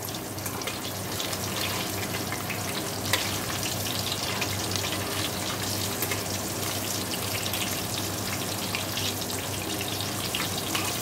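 Potatoes fry in hot oil in a wok, giving a continuous, close sizzle with fine crackling that stays even throughout, with no one talking.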